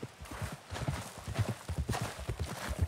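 Rhythmic clip-clop of horse hooves in the video game Red Dead Redemption 2, a steady walking gait close by, with a faint background hum.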